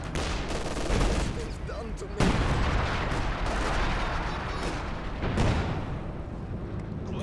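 Infantry support gun thumps away in a Company of Heroes 2 battle, several heavy booming shots with sharp onsets landing amid dense ongoing gunfire and explosions, loud and continuous throughout.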